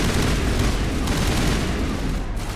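Sustained gunfire from the player's upgraded gun in the video game Mass Effect: a loud, dense, continuous burst of rapid shots and booms with no pauses, filling the whole stretch close up.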